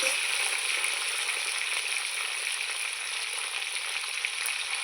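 Gathi kochu (taro) and potatoes frying in oil with salt, giving a continuous close hiss and sizzle that holds steady throughout with no voices.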